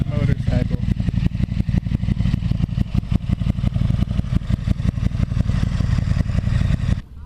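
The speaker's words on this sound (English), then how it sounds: "That is an attractive motorcycle." A motorcycle engine idles and rumbles close by with a steady, slightly clattery throb, running continuously under people talking until it cuts off near the end.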